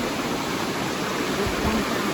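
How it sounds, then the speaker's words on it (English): Big Poe Creek, a mountain creek near Penns Creek, rushing steadily with a dense, even broadband hiss of flowing water, close and constant. "This is a beautiful mountain creek here."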